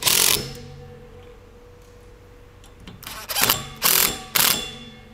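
A screw is driven with a ratcheting tool to fix a roof rack onto a Freedom Camper, several short ratchet bursts near the end after a quiet stretch, close and fairly loud.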